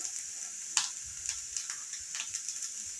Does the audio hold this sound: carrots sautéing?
yes